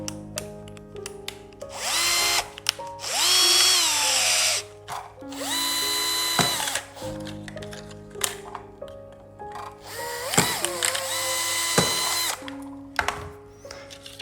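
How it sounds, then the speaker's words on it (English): A power drill with a larger bit whines in several bursts, speeding up and slowing as it bores drainage holes through the bottom of a plastic bottle, with short pauses between holes. "we're going to put some drainage holes in the bottom with a larger drill."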